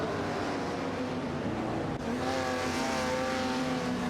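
Race car engines in a video game race, a Dodge Coronet Super B dueling a TVR Griffith 200, drone steadily and loudly throughout, with a brief dip near the middle before a rising engine note climbs through higher revs.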